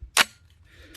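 Magazine seating into a Scorpion firearm, a single sharp metallic click near the start followed by a faint rattle, close and isolated with no talk.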